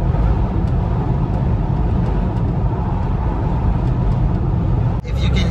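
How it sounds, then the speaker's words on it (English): Steady wind roar fills the cabin of a 2018 Smart electric car at highway speed, a loud broadband rush with a poorly sealed window, unbroken until a brief knock near the end. "If you can hear me over the wind noise in the car"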